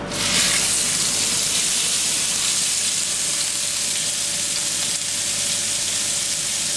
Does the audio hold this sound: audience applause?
no